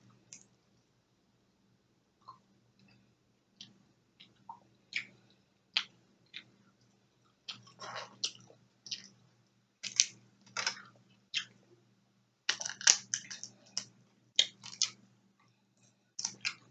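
Quiet, close mouth sounds of someone eating potatoes at a seafood boil: scattered soft clicks and wet chewing squishes, sparse at first and then coming in quicker bunches, in a silent room with no talking.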